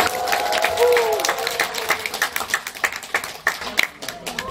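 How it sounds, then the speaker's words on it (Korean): A cinema audience at a post-screening stage greeting claps and cheers as the film's actors are welcomed, with dense rhythmic applause and scattered shouts mixed with speech near the start. "큰 박수와 환호로 맞아주세요"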